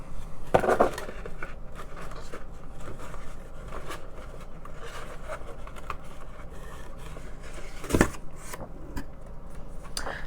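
Paper slips rustle and shuffle by hand inside a container, soft scraping and flicking with a couple of sharper knocks, no voices.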